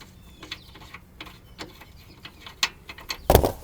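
A self-threading bolt is driven into a Ford Transit frame to mount a bumper step, producing irregular close mechanical clicks and ratcheting ticks that end in a louder burst of metallic grinding.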